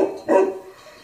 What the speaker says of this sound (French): là c'est le chien qui aboie parce qu'il n'a pas l'habitude de m'entendre parler.